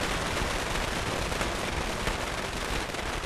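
Giant firecrackers explode in Dead Rising 2, a dense, continuous crackling barrage of rapid bangs that stays loud and unbroken throughout.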